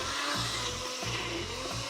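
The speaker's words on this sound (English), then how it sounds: "5 seconds in the blender," A kitchen blender grinds ground beef, its motor running in a loud steady whir with a rhythmic low pulsing roughly every three quarters of a second as the meat churns.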